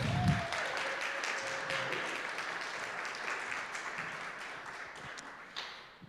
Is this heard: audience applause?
yes